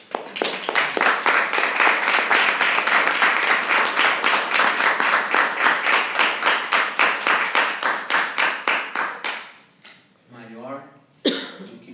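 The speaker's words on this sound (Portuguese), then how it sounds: "Onde você aplaude o Senhor." Church congregation applauding during a sermon, loud rhythmic clapping in steady beats for about nine seconds before it breaks off, followed by a short burst of voices.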